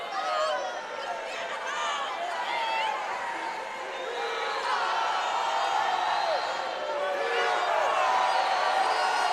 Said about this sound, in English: Savannah State crowd definitely making some noise for their Tigers